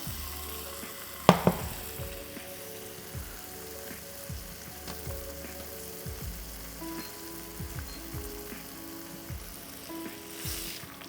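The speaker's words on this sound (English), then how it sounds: "what I like to do with salmon is I like to seal it on all 4 sides" Salmon dusted with sumac sears in a frying pan, a quiet steady sizzle punctuated by one sharp clatter early as the fillet is flipped, with soft scattered pops and crackles throughout.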